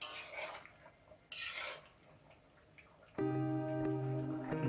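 A utensil scrapes and clanks through chicken karahi in a pot as turmeric and other spices are mixed in, two short bursts of stirring, then a sustained metallic ring toward the end.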